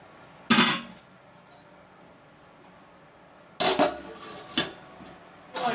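A lid goes onto a cooking pot of drumstick and potato curry, with one sharp metallic clatter near the start, a quiet gap, then a cluster of knocks and clinks as it settles, close and fairly loud.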